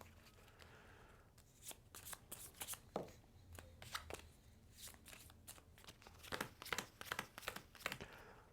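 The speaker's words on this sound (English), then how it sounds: "Draw a hand back up of 6 cards." Playing cards drawn one after another from a deck during a tabletop session of the board game Battalia: The Creation, giving a close series of crisp papery snaps and slides in irregular bursts.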